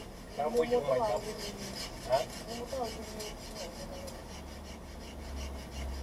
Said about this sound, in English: A dry piece of forest hardwood is grooved with a softwood plough. Friction creates heat.